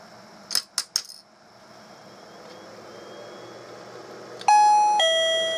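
A koi pond water level alarm sounds near and loud: three sharp electronic ding tones, a quiet pause, then a sustained two-tone beeping chime that keeps sounding.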